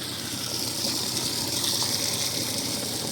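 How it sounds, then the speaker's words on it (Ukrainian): Water from a garden hose sprays steadily into a basin of pumpkin seeds being washed, a continuous, even gushing wash heard alone from nearby. "береш шланг у руки і отакого його тарабаниш"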